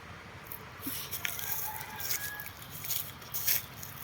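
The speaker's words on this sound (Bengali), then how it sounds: "ওই দেখেন গাছ একটা মুরগি" Chickens in a village vegetable garden cluck faintly and intermittently at a distance, over a soft outdoor background hum.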